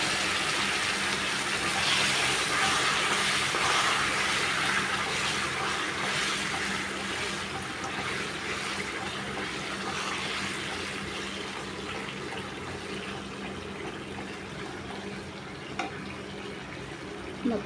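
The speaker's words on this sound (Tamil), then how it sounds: "இப்போ இதில் நம்ம தண்ணி சேர்த்துக்கலாம்." Water poured into a pan of sautéed raw plantain, a steady broadband splashing and trickling fill that runs continuously and softens slightly toward the end, fairly close with no talk.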